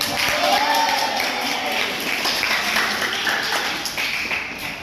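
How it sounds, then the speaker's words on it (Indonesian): A classroom of children applauds together, a steady dense patter of hand claps that stays loud and even throughout, with a voice briefly rising over it. "Tepuk tangan untuk kita semua."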